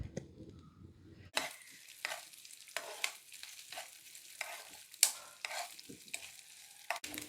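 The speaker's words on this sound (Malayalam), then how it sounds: "തേങ്ങ ഒന്ന് വറുത്തെടുക്കണം." Chopped coconut pieces fry in ghee in a pan, a soft bubbling sizzle with repeated spoon scrapes and clinks at irregular intervals, close by but fairly quiet.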